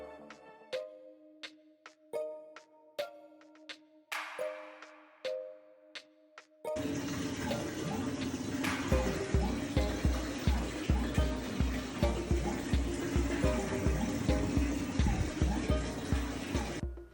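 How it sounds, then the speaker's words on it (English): A washing machine runs water through its cleaning cycle, including the fabric softener section: a few control-panel beeps and clicks, then a loud, steady rush of water with a rhythmic low thumping that continues to the end. "It even ran water through the fabric softener section."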